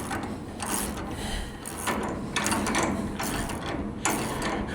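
Ratcheting and clicking of front end bolts being tightened on a car with a late-model front end, in repeated close bursts of metallic clatter over a continuous workshop background.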